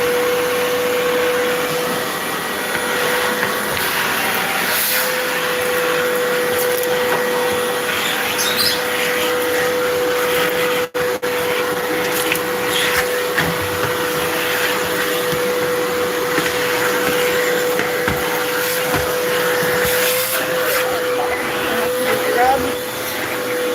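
A vacuum cleaner runs continuously while cleaning a pet cage and house, giving a loud, steady whine with a pitched tone, and faint bird chirps and talking come through underneath.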